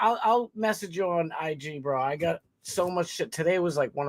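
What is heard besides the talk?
No distinct noise like a dog, phone or traffic.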